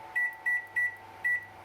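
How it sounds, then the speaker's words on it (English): An LG microwave oven beeps four times in short, evenly spaced electronic tones as full power and cooking time are keyed in, clear and close in a quiet kitchen. "I'll select full power and set it for"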